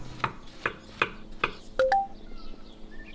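A knife slicing tomatoes on a cutting board in the video game Kebap Simulator, four evenly spaced crisp chops followed by two quick higher clicks and a soft chime.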